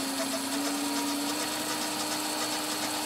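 A Smarty AT-300 lathe motor runs at 50 hertz, giving a steady, close electric hum with a thin constant whine and no pauses or voices.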